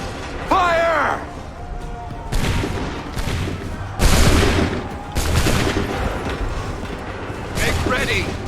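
Soldiers' musket volleys in Assassin's Creed 3, several loud crashing bursts of massed gunfire spaced a few seconds apart, with shouted commands between them.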